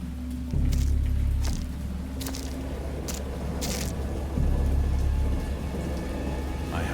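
Heavy rain pouring steadily in a storm, a dense wash of drops with low rumbles swelling in and out, loud and close with no voices over it.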